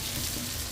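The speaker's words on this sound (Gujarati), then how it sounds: "થોડુંક હવે એને તેલની અંદર કકડાવવાની છે" Large-cut chillies and onion sizzling in hot oil for Manchow soup, a short burst of dense, steady crackling hiss, close and alone.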